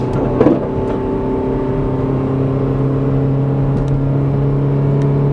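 A Hyundai Getz engine drones steadily at full throttle under heavy load, a constant straining hum with a faint whine, running loud and unchanging for several seconds.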